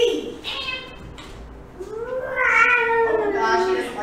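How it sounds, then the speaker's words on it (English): A cat meows in a long, rising and wavering drawn-out cry close by, with breathy voices and short exclamations around it. "Oh, it's a kitty!"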